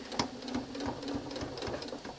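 A sewing machine stitching a narrow quilt strip runs in a steady rapid needle chatter with a constant low hum, close and quiet with no voices.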